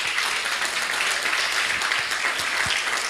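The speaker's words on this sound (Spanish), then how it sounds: "Den un aplauso al Señor." A church congregation gives sustained, even applause, a thick wash of many clapping hands at steady loudness from start to finish, with a few low thumps near the end.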